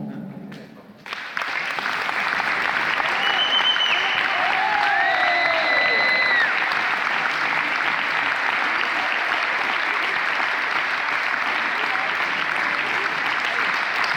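Audience at a basketball club farewell speech breaking into sustained, even applause that swells after a brief pause and holds steady, loud and close, with a few faint whistles or voice tones rising over the clapping.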